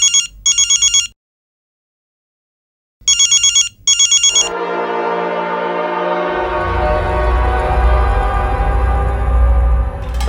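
Telephone ringing unanswered, two pairs of rapid electronic ring bursts separated by silence, loud and close, then giving way to a sustained tonal music-like drone that builds over the remaining seconds.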